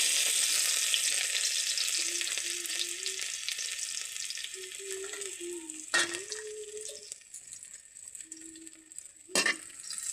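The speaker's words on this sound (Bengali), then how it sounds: "রসুনটা ভাজা হয়ে গেছে।" Garlic and cumin frying in hot oil in a wok, a steady close sizzle that slowly fades, broken by a few sharp stirring clanks, with a faint tonal hum in the background and no talking.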